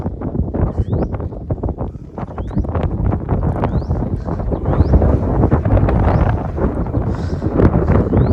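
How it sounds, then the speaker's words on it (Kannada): Cool wind blows across the Pavagada fort hilltop in Karnataka, a steady, loud buffeting rush against the microphone with scattered clicks and knocks throughout. "ಏನಿದೆ ಗಾಳಿ ಗೊತ್ತಾ? ಗಾಳಿ, ತಂಪಾದ ಗಾಳಿ."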